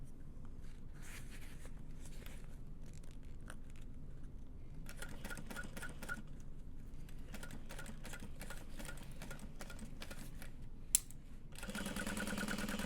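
A sewing machine stitches the lining of a tote bag in steady runs, starting and stopping with short pauses, close and fairly quiet with no talk over it.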